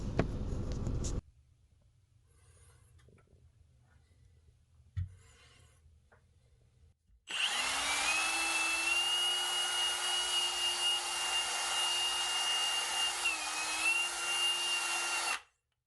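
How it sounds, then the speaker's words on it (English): A power drill scrubbing epoxy grout haze off glazed porcelain tiles whirs steadily for several seconds with a high, rubbing scrub, after a quiet stretch with a brief thump. "I use the drill because it's so much easier."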